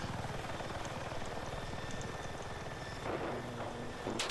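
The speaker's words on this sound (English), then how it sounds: "Enemy heli could be up anytime now." Attack helicopter in the video game Battlefield 6, a steady rotor drone throughout with distant gunfire and battle noise over it.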